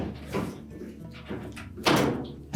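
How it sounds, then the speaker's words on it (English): Whirlpool dryer door being lifted off its hook hinges, with a few dull metallic thunks and clunks, the loudest near the end, handled close by. "So we're just going to grasp that door, lift up on it."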